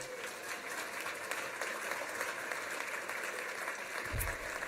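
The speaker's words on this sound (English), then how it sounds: "Now you can clap." An audience clapping at a university staff awards ceremony, a faint, even wash of applause heard at a distance, steady throughout.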